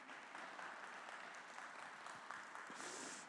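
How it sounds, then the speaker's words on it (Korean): A church congregation claps at a worship service, giving soft, steady applause that sounds fairly distant and low in level and continues evenly for a few seconds without anyone speaking. "여러분 박수 좀 쳐주실래요?"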